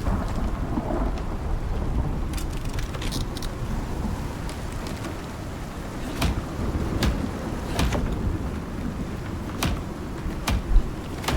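A thunderstorm with steady heavy rain in the Icarus survival game, a continuous loud downpour broken by several sharp cracks of thunder, with no voices.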